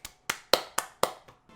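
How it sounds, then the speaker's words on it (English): A quick run of single hand claps, about six in a steady rhythm, sharp and close, with the last few fading softer. "I give you a round of applause."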